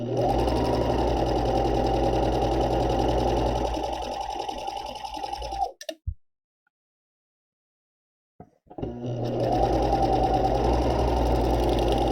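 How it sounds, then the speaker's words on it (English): An overlock serger stitches a skirt with a steady, loud mechanical whir that runs continuously, stops for a few seconds of near silence, then starts up again. "Finally, the stitch is correct and I can start stitching the skirt"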